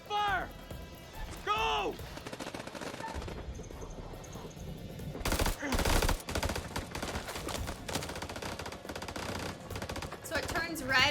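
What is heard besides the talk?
gunfire in the video game House of Ashes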